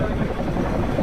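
Helicopters fly overhead during a nighttime military operation in the Sierra de Jalisco, producing a loud, continuous rotor rumble with steady low thumping and no pauses.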